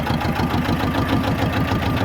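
A T-25 tractor engine runs steadily while clearing snow, a close, loud diesel idle-like chug with a rhythmic knocking pulse and no voices over it.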